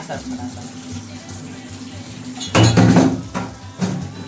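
Metal pots and dishes clank and clatter in a home kitchen, with a few loud knocks midway standing over a low background hum.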